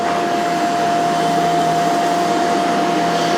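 A Shark CZ351 canister vacuum cleaner runs with a steady, loud whooshing roar and a constant high motor whine, unbroken throughout and with no talking.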